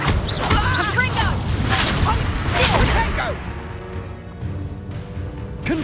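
Confringo blasting spells burst in the Hogwarts Legacy video game, loud booming explosions under a game voice and scattered battle effects, with the crashes thinning into a fading rumble in the last seconds.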